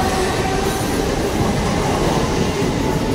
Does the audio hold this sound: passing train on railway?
yes